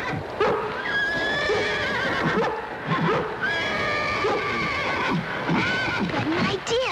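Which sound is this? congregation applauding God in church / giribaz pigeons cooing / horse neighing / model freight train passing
horse neighing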